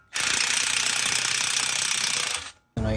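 Power tool, likely an impact or air ratchet, loosening bolts on BMW Z3M suspension during an old-suspension removal; one loud, steady buzzing burst of about two and a half seconds, close up, then a brief pause and a short restart.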